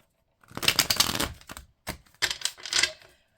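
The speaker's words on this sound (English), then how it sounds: "So let's get a good shuffle here." A Golden Wheel Tarot deck is shuffled in several quick riffling bursts with brief pauses between them, crisp and close, with no voices.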